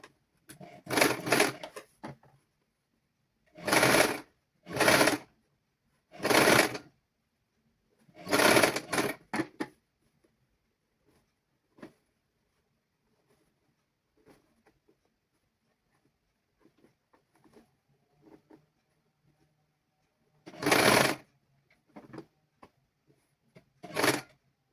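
A sewing machine stitches fabric for a children's garment in several short, fast whirring bursts separated by quiet pauses, with faint handling clicks in between and no talking.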